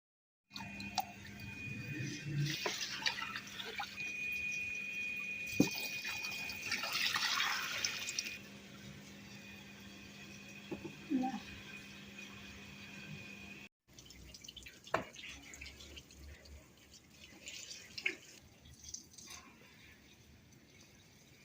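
Water trickling and splashing into a vessel in a home kitchen, quiet and close, with intermittent drips and soft pouring that pauses and resumes, plus faint household noise.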